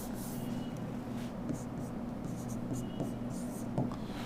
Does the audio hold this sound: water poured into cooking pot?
no